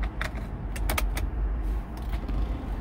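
Keys jangle and click as a key goes into a 2008 BMW 535i, a handful of sharp metallic taps and rattles close by over a low rumbling background.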